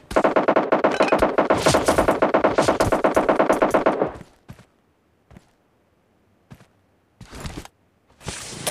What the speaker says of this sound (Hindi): हड़ी तरफ से फायरिंग कर रहा है।